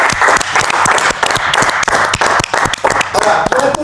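A studio audience applauds warmly to thank a host and her team at a French hypnosis show, steady dense clapping filling the whole stretch at close range with a few brief sounds rising near the end.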